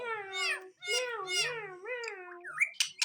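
Indian ringneck parrot imitating a cat's meow, a few drawn-out wavering meow calls in a row, close and clear, followed by short chirpy squeaks.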